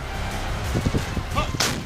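M777 howitzer artillery firing, a short sequence of heavy booming thumps and sharp cracks lasting under two seconds, fairly loud against background rumble.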